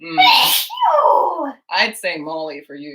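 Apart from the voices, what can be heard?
sneeze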